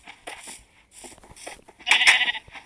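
Sheep in the Minecraft One Block video game give a few short bleats, separate bursts with brief gaps between them and the loudest cry near the end, heard close and without speech.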